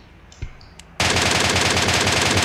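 An MK14 rifle in a shooting video game fires a sudden sustained burst of rapid, loud shots after a second of quiet with a few small clicks, the shots running continuously to the end.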